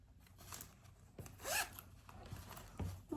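Zipper on a fabric zipper pouch lined with a fat quarter, heard as a few short, close, quiet rasping pulls with one longer drag in the middle, no talking.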